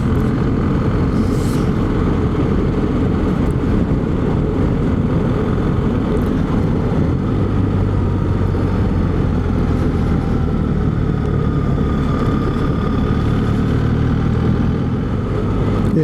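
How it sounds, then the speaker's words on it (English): A BMW R1300 GS motorcycle engine drones steadily while riding, a constant loud hum blended with rushing wind and no voices. "Now let the engine do the work."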